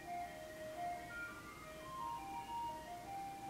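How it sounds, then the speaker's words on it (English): Ice cream truck outdoors plays its tinkling jingle melody. The tune is faint and distant, heard steadily over a low background hum with no one speaking. "Is that an ice cream truck?"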